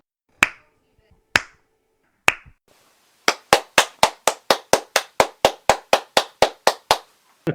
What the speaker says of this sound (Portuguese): Agora você coloca umas palmas nos fundos aí.